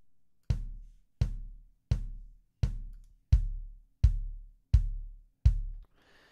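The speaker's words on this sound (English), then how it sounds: "You can hear it just completely changes the sound of that kick in a really good way." Eight evenly spaced kick drum hits processed with the Ableton Corpus plugin, each a deep punchy thump with a short resonant ringing tail, clean and isolated with no talking.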